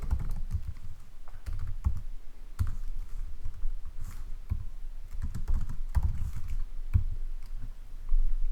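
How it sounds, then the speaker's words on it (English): Code being typed on a computer keyboard while building a binary tree in Python, a steady run of close, irregular key clicks and clacks continuing alone for several seconds. "I'm actually going to type it out first and then explain it"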